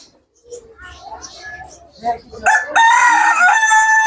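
A rooster crows near a yard of large chickens in Sirajganj, its loud sustained call rising in the final second and a half after softer background voices and clucking.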